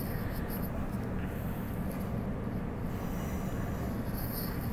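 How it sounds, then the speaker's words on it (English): A train passing nearby at a suburban station, with a steady, rumbling roar of wheels and carriages that holds constant throughout. "Another train."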